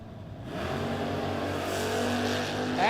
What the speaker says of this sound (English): Mopars are about 10 times louder than any other race car on the planet.